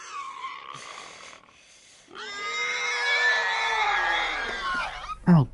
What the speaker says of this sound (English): Is she gonna hear Joel screaming?